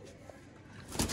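A racing pigeon coos softly, one low brief call near the end of a short, faint stretch of background noise in a pigeon loft.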